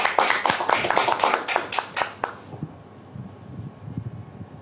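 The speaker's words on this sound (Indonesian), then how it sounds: "Tepuk tangan dulu dong untuk Power Strategy of Network." An audience at an Indonesian marketing session claps in quick, strong rhythmic bursts for about two seconds, then stops abruptly, leaving quieter room noise and faint murmuring.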